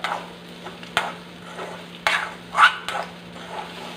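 Sardines roasting in a pan over a low flame, with scattered scraping and tapping stir sounds over a faint sizzle and a steady low hum; nobody speaks.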